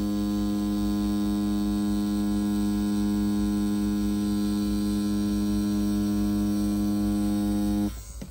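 A tattoo machine fitted with a T&T standard 9 round liner needle cartridge drones in a steady, loud electric buzz while pulling lines, cutting off abruptly near the end.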